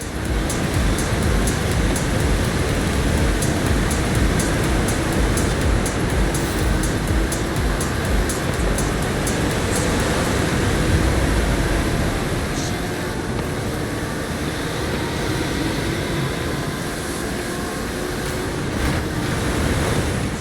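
A waterfall roars as steady broadband rushing water in the Forza Horizon 5 racing game, loud and continuous, blended with faint ticking and vehicle noise throughout.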